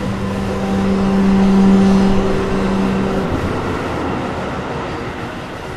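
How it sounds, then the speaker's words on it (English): A train passing over a railway crossing, a loud steady rumble with sustained horn-like tones over the first three seconds, then continuing roar fading slightly. "Once again, Billy's path is haunted by the railway crossing."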